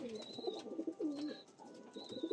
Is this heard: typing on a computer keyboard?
no